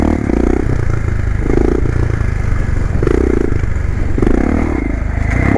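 A motorcycle engine downshifting while riding a wheelie, loud and close, with repeated rising and falling revs and gear changes roughly every second over a constant mechanical clatter.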